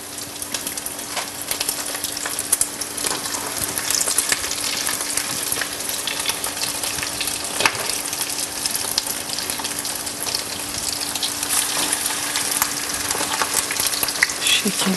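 Kadın budu köfte meatballs sizzle and crackle in hot frying oil, a steady, dense close-up hiss with brief spatters and stirring, no voices.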